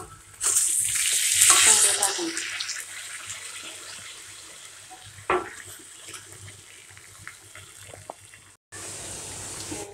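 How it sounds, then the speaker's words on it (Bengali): Food frying in a pan, a bright sizzle that flares loudly at the start, then settles into a softer steady hiss broken by a sharp clink and a brief dropout near the end. "এভাবে সবগুলা ভেজে নিব।"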